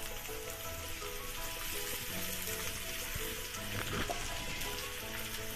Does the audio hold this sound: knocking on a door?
no